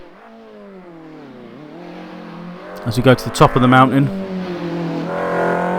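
Simulated 1984 Ford Capri engine in Assetto Corsa at Bathurst, revving high with rising and falling pitch, then a loud burst of gear-change and throttle blips mid-clip, with someone talking over much of it.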